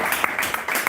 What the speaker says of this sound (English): Give a round of applause for 50.